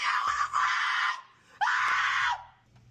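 A person screams loudly as part of a prank, two long, strained bursts of about a second each with a short break between them, close and harsh, with faint low rumbling underneath.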